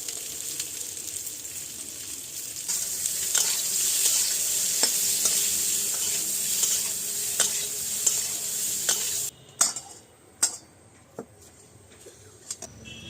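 Small potatoes, sprinkled with salt, sizzle steadily in hot oil in a kadai while a spoon stirs and scrapes the pan in regular strokes, then the frying quiets and a few sharp knocks follow.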